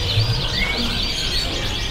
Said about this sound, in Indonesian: Nah, ini stok untuk kenari semua ya.